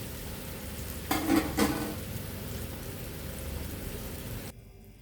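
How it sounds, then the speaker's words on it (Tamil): Banana stem and moong dal kootu bubbling and sizzling as it cooks with water in a pan, with a steady soft simmer, a brief louder stir or splash near the start, then quieter. "இப்போ அரை டம்ளர் தண்ணி ஊற்றி நல்லா வேக விடுவோம்."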